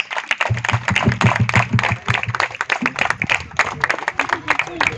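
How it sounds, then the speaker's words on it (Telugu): An audience at a choir program claps to welcome a speaker onto the stage, with quick rhythmic handclaps running continuously under a voice speaking over them. "Please welcome brother David with big round of applause."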